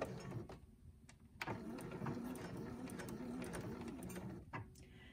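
A sewing machine stitches around the edges of a pet bed, a quiet, steady mechanical whir that starts and stops with short pauses, heard alone.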